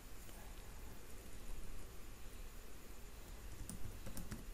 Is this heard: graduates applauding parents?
no